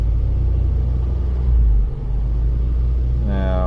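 A 1998 Mazda Protege's 1.5-liter engine hums steadily with a low rumble near 1500 to 1800 RPM, then its pitch climbs briefly at the very end as it is revved.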